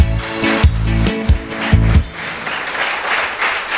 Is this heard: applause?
yes